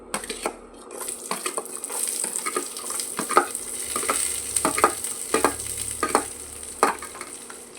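Onions fry in a pan for a beetroot and moong dal kootu, crackling with a close, busy sizzle broken by repeated sharp pops and the scrape of stirring.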